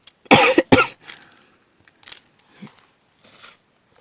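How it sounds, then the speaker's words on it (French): Two sharp, loud coughs close together, followed by a few fainter throaty coughs and small noises trailing off. "J'essaye de bloquer la toux, c'est génial."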